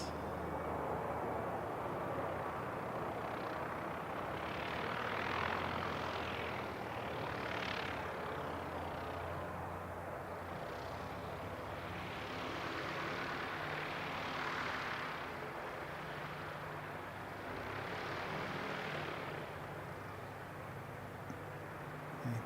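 An ATR 72-600 turboprop airliner passes at a distance, a faint, broad engine and propeller drone that swells and fades over about twenty seconds, with no voices.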